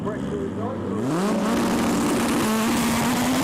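Two front-wheel-drive drag racing cars launching side by side at a FWD drag series final, engines revving up with a rising, sustained roar that climbs as they pull away, under a commentator's voice.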